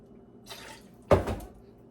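Filtered water pours from a measuring cup into a smoothie blender, a soft splash followed by a quick, louder gush of liquid lasting under half a second, close and alone.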